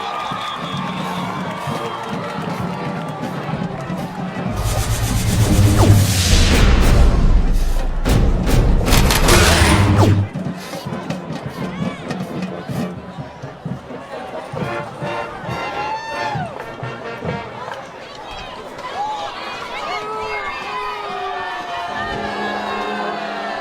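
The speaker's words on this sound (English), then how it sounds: "I'm not sure you can hear the fans here, folks, but they're all booing" Crowd at a high school football game between the Cherokee Chiefs and Millville Thunderbolts booing a penalty call, a loud swell of crowd noise with booming thuds peaking midway, then easing into a steadier crowd murmur.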